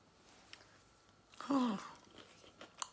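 Chewing on crispy pan-fried quinoa tofu, with a single close, brief crunchy bite burst amid quiet.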